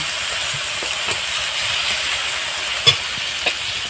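Ginger, garlic and green chilli paste sautéed with spices in a pan for a Bengali mustard tangra fish dish, giving a steady broadband sizzle with soft scraping stirs and one sharper clack near the end.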